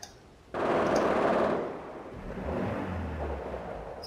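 Rapid machine-gun fire in Company of Heroes with the Blitzkrieg mod: a dense burst of about one second bursts in abruptly, then fades into a lower, rumbling battle din, with no speech.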